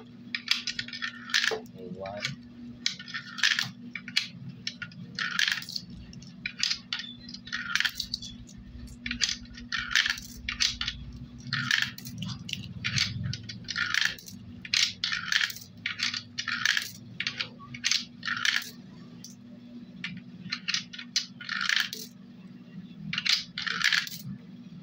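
Coins drop one after another into a coin slot acceptor being calibrated, a long irregular run of sharp metallic clinks over a steady electrical hum, close and clear.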